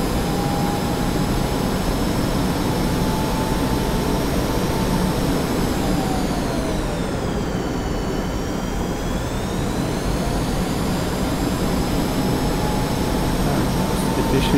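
Steady, loud roar of an F-5E jet engine in the DCS flight simulator, a continuous whine and rumble with a slowly shifting tone and no talk over it.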